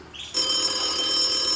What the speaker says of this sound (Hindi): ककर फोन है, उठाओ।